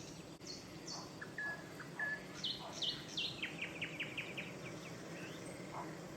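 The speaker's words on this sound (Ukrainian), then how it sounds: "послухати, як співає соловей" Nightingale song outdoors: repeated clear whistled notes, then a run of rapid trilling phrases, moderately distant over a steady low background hum.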